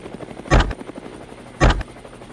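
Helicopter flying low over fields near a bayou: two heavy, loud rotor thumps about a second apart stand out over a steady mechanical drone.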